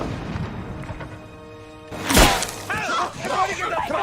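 A single sharp sniper rifle shot cracks out in a tense thriller film scene, loud and sudden after a quieter stretch, followed by a voice talking over the lingering ambience.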